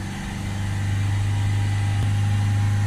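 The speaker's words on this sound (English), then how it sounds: "3000 RPM. Hold the rev sort of there for a minute." A Ford Transit Custom 2.2 diesel engine held steadily at around 3000 RPM during DPF cleaning gives a loud, continuous, even drone with no talk over it.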